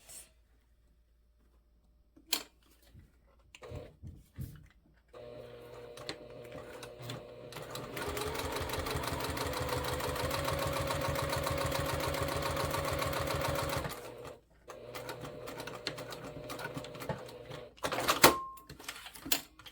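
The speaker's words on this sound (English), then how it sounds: "I'm gonna top stitch the top at an 1/8." A sewing machine top stitches a fabric bag, with brief handling clicks and then a steady, close mechanical whir running for about nine seconds before stopping, followed by more scattered clicks.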